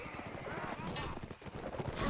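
Horses galloping through a video game battle, a quick run of clip-clop hoofbeats mixed with clashing and crowd noise, busy and fairly loud.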